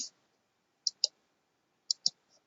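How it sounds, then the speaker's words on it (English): A computer mouse clicks sharply close by: one click at the very start, then two quick double clicks, each a crisp pair, with near silence between them. "click on apply"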